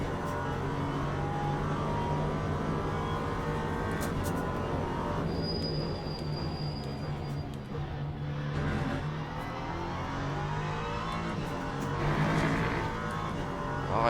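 Engine of an LMP3 prototype race car in the racing game Le Mans Ultimate, a steady loud drone held throughout with slight rises in pitch, heard close with no talking.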